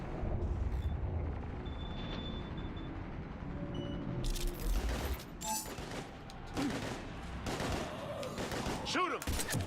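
Gunfire in the video game Mass Effect 3 on Insanity difficulty, with a female Vanguard character: bursts of shots and impacts crackle through the second half over a steady rumbling game backdrop, with some talk mixed in.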